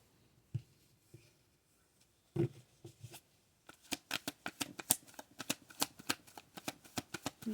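Playing cards are taken out, then shuffled. A few soft handling taps come first, followed by a quick, riffling run of crisp card slaps. The sound is close and quiet, with no voices.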